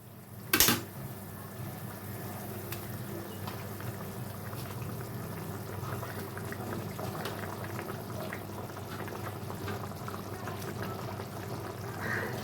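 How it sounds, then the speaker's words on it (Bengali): Mustard and poppy seed katla fish curry bubbling in a pan, a soft continuous simmering hiss with a brief clatter near the start, quiet and steady throughout with no talking. "দেখুন আমার মাছের ঝোলটা ফুটে উঠেছে"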